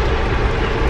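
Steady broadband rumble inside a moving passenger train on a day trip to Washington, D.C., a dense continuous roar of wheels and carriage noise with no voices.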